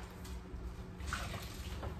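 Water splashing and trickling while a microwave is cleaned out, a soft, steady wash close by with a brief louder burst partway through, no voices.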